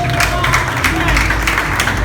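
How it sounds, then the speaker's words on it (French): A burst of crowd applause at a gathering of newcomers comes through with voices underneath, short and fairly loud. "Est-ce que quelqu'un peut applaudir?"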